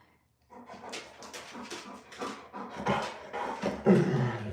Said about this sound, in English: do y'all want to see my puppy dog?